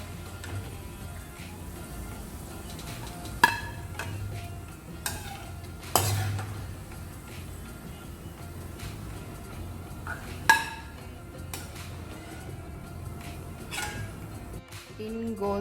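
Golden fried onions are lifted out of a pan while cooking Hyderabadi mutton dum biryani: soft oil sizzle under steady stirring scrapes, with a few sharp utensil clinks against the pan, close and unaccompanied by talk.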